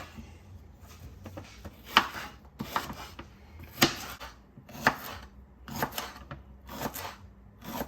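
A knife chops jalapeños for a sautéed topping on smoked Tex-Mex burgers, the sharp close cuts landing in a steady rhythm about once a second with no talking.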